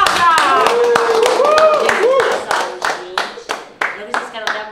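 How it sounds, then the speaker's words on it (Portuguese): Applause for a production crew during Carnival, with clapping hands over excited voices and cheering, then dwindling to a few scattered claps. "Uma salva de palmas pra essa equipe maravilhosa!"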